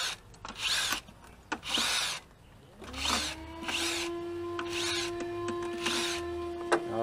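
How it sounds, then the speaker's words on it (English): A power drill with a 7mm socket removing intake manifold bolts on a Ford 4.6 engine whirs in several short bursts, then runs in a longer steady spin with a high whine, fairly close and clear. "7mm on a drill gun"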